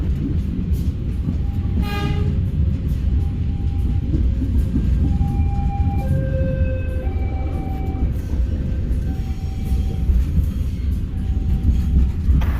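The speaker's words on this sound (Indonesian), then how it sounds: "Nyampe sini itu keretanya sudah melambat, nggak ngebut kayak tadi ya." Commuter train running on rails near a station beside houses and a market, heard from aboard: continuous loud rolling rail rumble with clattering, brief squealing tones and a short horn-like blast early on.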